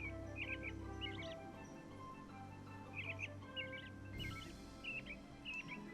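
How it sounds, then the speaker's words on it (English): An American robin call from the Nancy Drew: Ghost Dogs of Moon Lake video game: short, faint, twittering chirps in scattered clusters over a steady low hum. "American robin."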